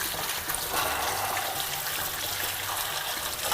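A kitchen tap runs in a steady, close stream while food is rinsed under it during budget Peruvian cooking. The gushing water stays even and unbroken throughout.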